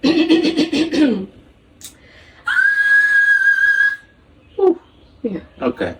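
A voice makes short high sounds, then a single sustained high whistled note held for over a second, followed by brief vocal bursts and laughter.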